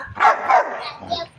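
A storyteller's voice imitates spotted village dogs barking as they chase a jackal in a children's folk tale, giving two quick, loud barks followed by softer yelps.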